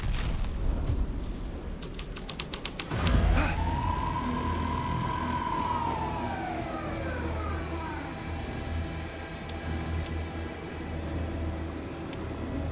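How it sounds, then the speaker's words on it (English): A police car siren in the video game Alan Wake 2 wails loudly with one long rising and falling sweep that fades away over a rumbling ambient background, after a run of rapid clicks. "A police car?"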